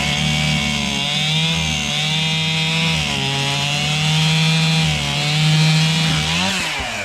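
Chainsaw cutting up firewood, its engine droning loud and close without a break, with the pitch dipping and rising as the chain bites into the wood.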